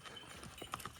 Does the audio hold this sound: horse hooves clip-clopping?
yes